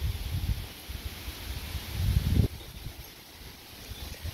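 A wind storm gusts through tree leaves, a soft broadband rustle that swells to a louder surge before dropping to a quieter steady hiss.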